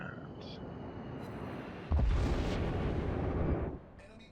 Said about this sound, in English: Actually, you heard that big explosion there.